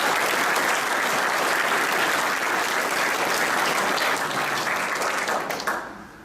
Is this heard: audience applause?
yes